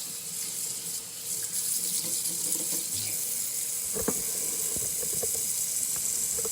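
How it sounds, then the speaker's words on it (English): Water runs steadily from a kitchen sink tap as food is rinsed, with a continuous splashing rush and a few light knocks near the basin. "right here in the sink, I'm gonna rinse it out. Give it a pretty good rinse off."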